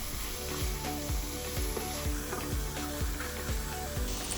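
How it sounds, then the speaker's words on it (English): Sun-dried tomatoes and mushrooms saute in a pan for a Tuscan chicken dish, giving a steady close sizzle with regular utensil scrapes and taps about twice a second. There is no talking. "Next, add your sun-dried tomatoes and saute it for a few minutes."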